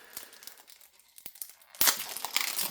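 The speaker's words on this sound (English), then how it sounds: "that plastic's old and brittle. Goodness. It's like peeling a hard-boiled egg" Old, brittle plastic wrap is peeled off a Star Wars card deck box, with sharp crinkles and crackles that start sparse and soft, then turn to a louder, denser crumpling close by.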